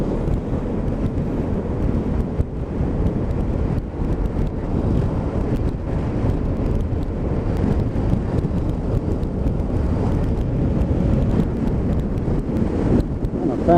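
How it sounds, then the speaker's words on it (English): Heavy wind roars across the microphone on a winter ride aboard a Xciting 500 scooter, a loud continuous low rumble that fills the clip with no clear voice. "the wind is coming straight out of the north."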